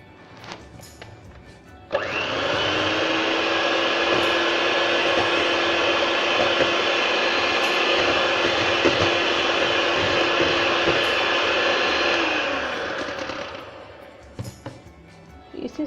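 An electric mixer beats butter, sugar and egg into a batter for lamingtons, starting abruptly and holding a loud, steady whirring drone for about eleven seconds before winding down and stopping.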